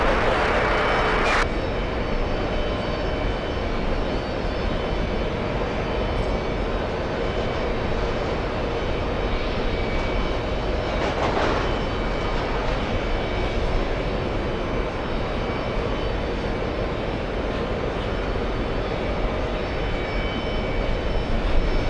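An Emirates airliner takes off at JFK, a steady, moderately loud engine roar holding throughout with a couple of brief clicks and bursts layered over it.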